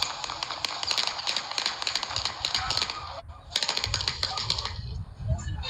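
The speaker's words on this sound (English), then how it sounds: "While you can hear fireworks, there is also the distinct sound of gunshots" A rapid string of sharp pops and cracks from New Year's Day gunshots mixed with fireworks, caught on a Ring doorbell camera outside Longshoreman Hall in Beaumont. The bursts come in dense clusters, pause briefly, then resume, with distant crackling throughout.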